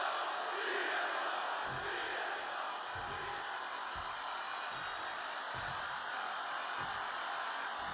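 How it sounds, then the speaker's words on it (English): Arena crowd at SummerSlam in the WWE 2K26 video game, a continuous roar of cheering with rhythmic low thumps pulsing underneath, sustained and fairly distant. "Look how the crowd turned."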